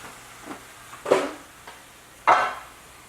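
Turkey tomato sauce in a pan gives short sizzling, bubbling bursts as it cooks down, two louder spits standing out against a quiet kitchen background.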